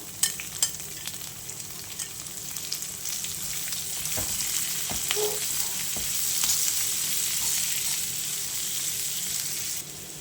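Chopped onion frying in a pan with sautéed garlic and asafoetida, a steady close sizzle with occasional stirring scrapes and ticks, holding continuously throughout.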